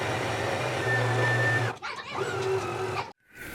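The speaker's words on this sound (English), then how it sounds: "I'm going to stitch down my sleeve seam at a 5/8 of an inch seam allowance." A sewing machine stitching a jacket sleeve seam: a whirring motor hum in two bursts, separated by a short pause and ending abruptly, close and fairly loud with no talking.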